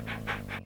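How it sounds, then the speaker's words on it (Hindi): A dog pants in three quick, breathy bursts, close and fairly loud, with a steady low hum underneath, in an Indian film scene at a house. "इस घर में एक कुत्ता है"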